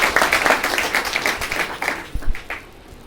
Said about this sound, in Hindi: एक जोरदार ताली बजा दो।